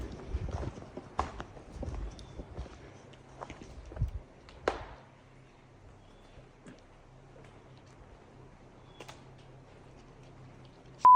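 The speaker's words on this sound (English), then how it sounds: "they're lobbing rocks at me. Big fucking rocks. Hear that shit? It's hitting the tree." Several sharp, hard knocks land irregularly outdoors in the first few seconds, big rocks striking a tree, followed by a long stretch of near quiet.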